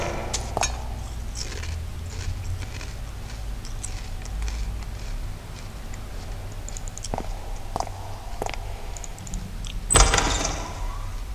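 Doors opening in the Asylum horror video game, in a hospital ward: a few soft clunks over a low steady hum, then a sharper, louder mechanical burst near the end.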